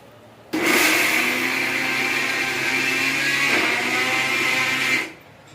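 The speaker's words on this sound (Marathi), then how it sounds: "तर आता मी शेंगदाणे आणि गूळ बारीक करून घेत आहे" A mixer grinder blends peanuts and jaggery into a fine ladoo mixture, a loud steady whirring roar that starts abruptly, holds for about four and a half seconds with a slight pitch shift midway, then cuts off.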